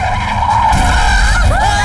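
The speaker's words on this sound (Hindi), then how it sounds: "तुमने ब्रेक क्यों लगाया?" A car braking hard as its tires skid and squeal in a loud, continuous screech with a low rumble beneath, ending in rising tire chirps; no talk.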